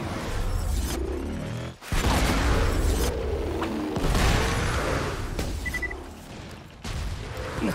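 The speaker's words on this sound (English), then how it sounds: "Nade out!" Loud, sustained gunfire and heavy booming explosions from a grenade blast in the shooter game Borderlands 2, continuous chaotic combat with whooshing bursts throughout.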